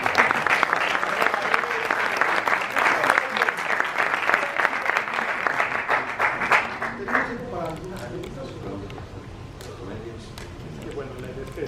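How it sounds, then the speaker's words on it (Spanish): Audience applause at a Spanish-language conference on the metaverse and Web 3.0, loud and dense for about seven seconds before thinning out, with scattered voices and talking continuing underneath as it fades. "Un aplauso para"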